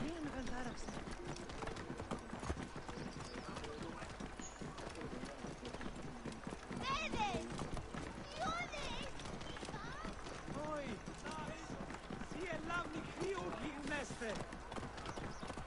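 Horse hooves clip-clopping through a city in the video game Assassin's Creed Origins, a faint steady trotting rhythm under talking voices throughout.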